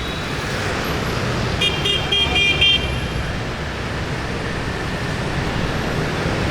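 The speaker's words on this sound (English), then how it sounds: "Look at the traffic just flowing." Busy street traffic in Saigon, Vietnam, rumbles steadily with passing motorbikes and cars, a few short horn toots near the middle, and faint voices mixed into the continuous roar.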